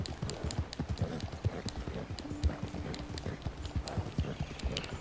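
Horse hooves clip-clopping at a steady walk in Red Dead Redemption 2, a continuous close rhythm of soft thuds with faint ambient sound, no talk over it.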